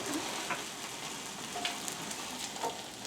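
Food sizzling and frying in a home kitchen pan, a steady crackling hiss with scattered small pops throughout, close and continuous with no talk.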